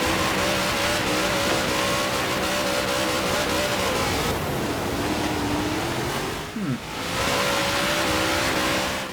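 A car in Forza Horizon 3 revving hard with its wheels spinning for lack of traction, a loud continuous engine roar with rising and falling pitch throughout.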